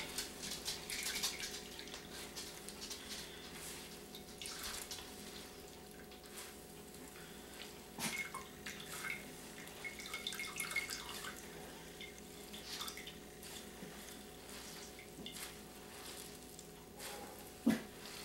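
Water from squeezed grated potatoes drips and trickles into a bowl or sink in a kitchen, a steady stream of faint wet patter with small splashes running alone throughout.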